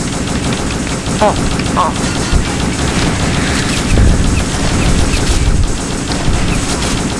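Rapid bursts of gunfire from the Uberstrike video game rattle continuously and loudly throughout, with a person briefly exclaiming over the shooting.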